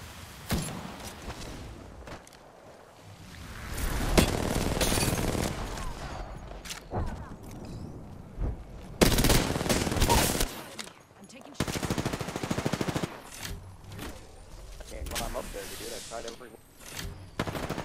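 Rapid automatic gunfire in an Apex Legends battle, with long loud bursts and scattered single shots between quieter pauses, close and mixed with players talking.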